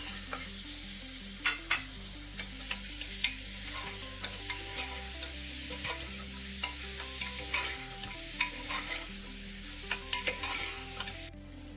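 Mutton sizzles in a spiced tempering with salt, asafoetida and turmeric, stirred in steady strokes with scraping clicks over continuous frying, close and unbroken for several seconds.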